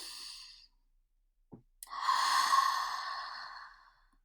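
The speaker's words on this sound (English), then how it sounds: "I invite you to take a deep breath with me" A slow, deep breath drawn in and let out in a long sigh, close and clear, with a short pause between inhale and exhale and no talking.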